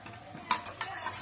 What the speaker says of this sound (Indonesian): Aku lagi masak tempe, diuntek dulu tempenya, habis diuntek baru digoreng biar tambah nyos.